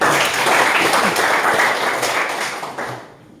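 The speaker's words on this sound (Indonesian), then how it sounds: "Oke, berikan tepuk tangan." Classroom audience at a coding and artificial intelligence lesson gives a round of applause, dense clapping from many hands that holds steady, then thins and fades out at the end.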